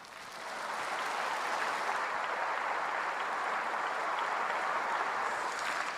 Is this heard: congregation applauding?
yes